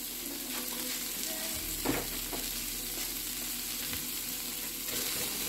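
A large batch of cabbage with extra garlic frying on high heat, giving a steady loud sizzle with a few scraping stirs partway through, no voices.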